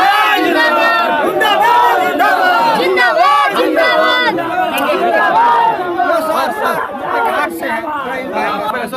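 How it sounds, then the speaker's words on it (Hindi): A dense crowd of political supporters at a village council campaign in Darbhanga, Bihar, shouting and chanting together loudly and close up, voices overlapping without pause. "ये भीड़ जो समर्थक है आपके, ये दिख रहा है"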